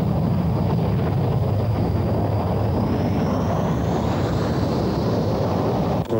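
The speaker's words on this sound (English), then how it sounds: "These are RAF Tornado GR1s." RAF Tornado GR1 military jets fly, heard as a loud, continuous roaring rush with wind-like broadband noise and a faint shifting high whine, with no talk.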